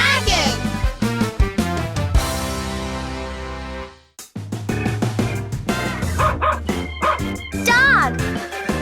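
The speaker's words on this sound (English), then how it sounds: "Dog." Cartoon dog barking in a children's alphabet song, loud repeated woofs and yips mixed over bright music with drums and singing voices.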